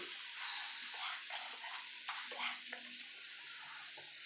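Beans, carrot, onion and ginger garlic paste frying in a pan, a steady close sizzle with spatula stirring scrapes and clinks breaking through at intervals.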